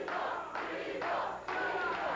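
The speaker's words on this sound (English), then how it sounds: "the crowd getting with it, starting the Weasel chant" A wrestling arena crowd at a 1987 Memphis CWA championship show chants in a steady rhythm, roughly two beats per second, and the rhythmic crowd noise is distant and fairly quiet.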